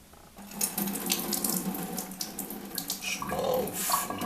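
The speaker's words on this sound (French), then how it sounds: "je mets l'eau." Tap water runs steadily into a pot, a continuous near splashing stream that starts after a brief quiet moment and shifts in tone as the pot fills.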